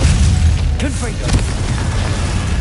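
A Confringo blast curse bursts loudly in Hogwarts Legacy, a heavy booming explosion inside a thick wash of combat effects, with a brief voice cutting through.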